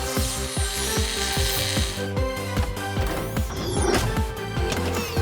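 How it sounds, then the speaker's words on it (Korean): A cartoon parcel-printing machine runs with a fast, steady mechanical ratcheting and clanking rhythm, loud and busy, gears whirring continuously without any voices. "택배 프린터를 작동시켜줘."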